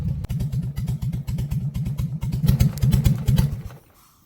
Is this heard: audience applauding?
no